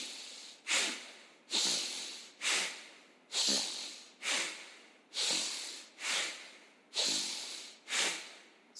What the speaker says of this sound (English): So the second round, 1 inhalation, 1 second, 1 exhalation, 1 second.